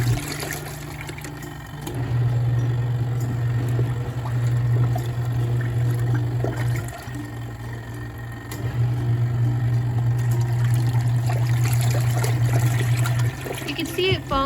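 Portable washing machine with water draining through to the spinner side, a steady low pumping hum with trickling, splashing water, pausing briefly midway before resuming.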